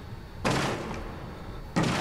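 A door is banged on in the horror video game Outlast, two heavy thuds with a rumbling rattle, loud and close, the first lingering before the second hits.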